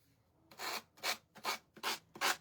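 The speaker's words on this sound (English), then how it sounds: "I'm just taking my sanding block and sanding off the edges" A sanding block rasps five times across the paper napkin edges on a Dollar Tree frame, each stroke a short, close, scratchy rub about half a second long with brief pauses between.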